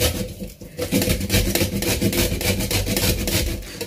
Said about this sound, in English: This is the bitter kola, so I'm going to grate it and add it inside there.